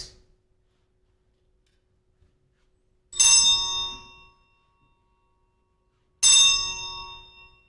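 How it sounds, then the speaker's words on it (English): Clock bells toll twice for two o'clock, each a loud, bright metallic strike with a long ringing decay, spaced about three seconds apart in an otherwise quiet hall during a Christmas variety show staging of A Christmas Carol. "The bells tolled like funeral bells"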